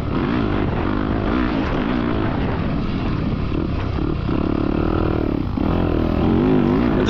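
Dirt bikes, one a KTM, lapping a parking lot loop, engines droning and rising and falling in pitch as they pass, fairly loud and continuous with a whine near the end.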